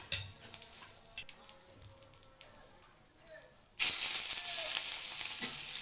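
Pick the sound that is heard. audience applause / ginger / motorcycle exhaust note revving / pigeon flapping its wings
ginger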